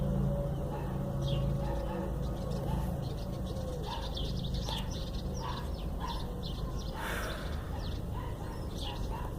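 Birds chirp and coo outdoors alongside intermittent dog barking, with steady background noise of nearby traffic filling the scene.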